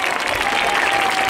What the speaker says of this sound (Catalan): un aplaudiment girant.